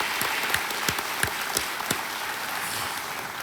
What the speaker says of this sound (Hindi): एक बार ताली बज जाए इनके लिए